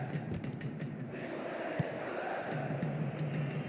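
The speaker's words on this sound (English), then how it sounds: "the crowd is adding to this as a spectacle. Noise they're making is terrific" A stadium crowd roars steadily throughout a Juventus versus Manchester City Europa League match in the football game PES 2010, a dense, continuous wash of cheering and chanting with no break.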